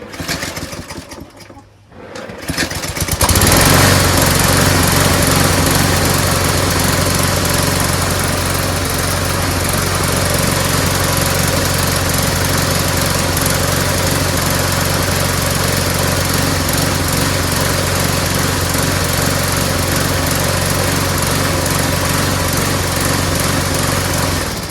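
A repaired walk-behind lawnmower engine fires up after a short pause and runs loud and steady nearby, a constant buzzing drone with no talk over it.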